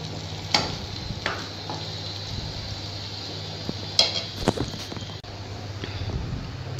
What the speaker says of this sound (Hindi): ये हमारा प्याज देखिए कितनी अच्छी तरह से भून चुका है। इस तरह से हम इसे ब्राउन करेंगे।